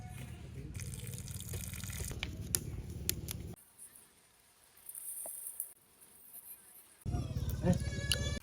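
Rice being washed in water during an outdoor village picnic cook-up, with sloshing, running water that comes and goes, loud at first, quieter in the middle, and louder again at the end, with faint background voices and animal sounds.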